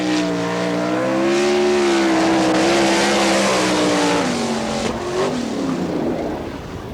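An NCRA All Stars sprint car howls through a time trial lap at Wichita, engine pitch climbing then dropping as it passes and fades slightly toward the end, loud and unbroken.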